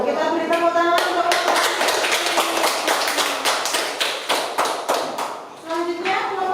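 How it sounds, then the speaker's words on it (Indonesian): A classroom group claps after a student presentation, a lively burst of many hands slapping in quick uneven rhythm, with voices speaking at the start and end. "Kita beri tepuk tangan untuk"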